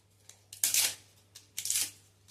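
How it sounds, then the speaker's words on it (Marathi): Dried bay leaves torn by hand into small pieces, two short crisp rustling tears about a second apart, close and fairly quiet against a faint steady hum. "तमालपत्राचे असे हाताने छोटे छोटे तुकडे केलेत तर तमालपत्र पटकन भाजलं जाईल"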